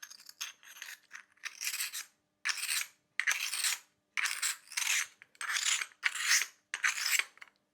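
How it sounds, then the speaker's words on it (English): An abrasive stone edger on glass pliers files sharp burrs off the edge of cut glass in about nine rhythmic, gritty rasping strokes, each a short scrape separated by brief pauses, close and clear. "let's just see how it behaves when we try and get rid of these little sharp-edged burrs using the edger"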